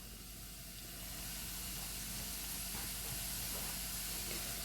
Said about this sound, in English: we're going to throw in our leeks and our onions to cook down